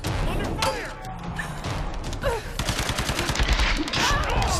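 Gunfire rattles in the Tomb Raider video game, dense bursts of shots and impacts amid game effects, with voices heard under the action.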